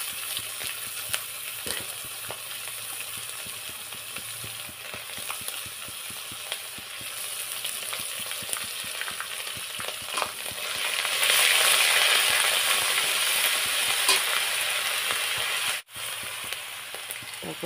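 Garlic and ginger paste frying in a pan for a Bengali home-cooked dish, a steady loud sizzle with scraping stirs and clinks of the spatula, growing brighter and hotter toward the end.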